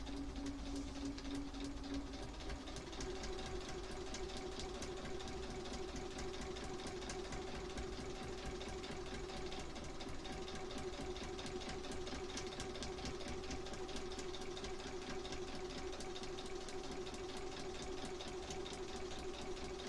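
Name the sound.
sewing machine sewing quilt block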